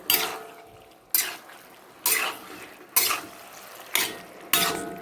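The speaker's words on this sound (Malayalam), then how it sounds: "നല്ലപോലെ ഒന്ന് ഇളക്കി കൊടുക്കാം" Beef tripe frying in a pan, stirred in about six sharp scraping strokes roughly a second apart, each a bright clatter that fades into a faint sizzle, close and without speech.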